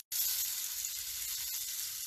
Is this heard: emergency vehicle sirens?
no